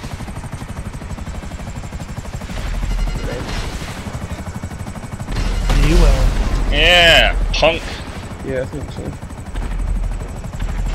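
A helicopter in GTA V Online gives a steady rotor chop and engine drone throughout, with gunfire and clatter in the game and players chatting over it.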